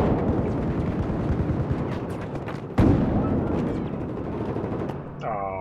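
Battlefield 4 gunfire in close-quarters play on the Operation Locker map: a dense, continuous rattle of shots with one sharp louder blast near the middle, staying loud throughout.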